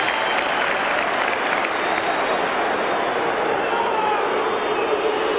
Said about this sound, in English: The crowd standing to applaud Pearce as he comes off